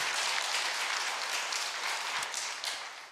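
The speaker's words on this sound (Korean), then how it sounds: "우리 하나님께 영광의 박수 드립시다." Congregation in a church service applauding, dense steady clapping throughout that tapers slightly at the end, no voices over it.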